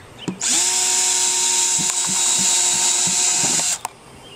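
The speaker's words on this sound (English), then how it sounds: "Once you draw the circle, you're going to break out your drill." A power drill whirs steadily for about three seconds at high speed, then stops. A few light clicks and taps sound around it.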